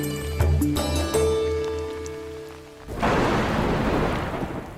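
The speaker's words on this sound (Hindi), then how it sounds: "बारिश की रिमझिम फुहारों को ही लीजिए, जब सही समय पर मिट्टी पर गिरें" After a stretch of sustained tones, a steady hiss of falling rain takes over, even and moderately loud.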